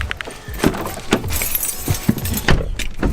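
Car keys jangle and clink in a few short bursts while a BMW M135i is being unlocked outdoors, close and fairly clear over faint background noise.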